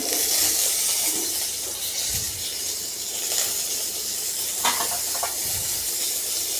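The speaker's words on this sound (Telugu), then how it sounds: "ఆ ఆయిల్లోనే కొంచెం జీలకర్ర, కొంచెం కరివేపాకు," Cumin seeds and curry leaves sizzle in hot oil while bitter gourd karam is being cooked, a steady close hiss with faint crackles and the occasional stir, and no voices.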